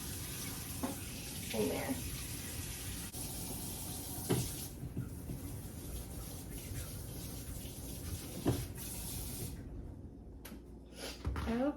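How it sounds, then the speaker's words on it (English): Warm tap water runs steadily for planting onion seeds, a continuous rushing wash under occasional nearby speech, with a few clunks and knocks along the way and the flow cutting off near the end. "let me step back here and get this water going"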